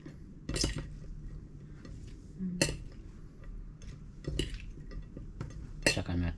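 Bitter gourd salad with salted egg being stirred in a bowl, producing close, repeated clinks and scrapes of utensils against the dish over a low background rumble.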